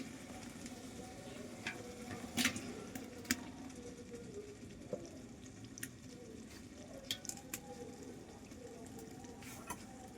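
Meat braising with spices in a hot pan for beto shak khichuri, a soft continuous sizzle with scraping stirs and a few louder clatters of the spoon, close by and without speech.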